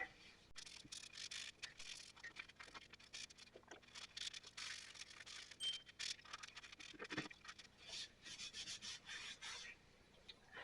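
Finish is rubbed into teak wood by hand, a faint, close, continuous rasping and rubbing with steady back-and-forth strokes and a few short pauses, no voices over it.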